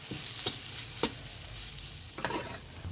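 Bean mash frying in a pan with potatoes and salt, stirred with a few sharp scrapes of a spatula over a low steady sizzle.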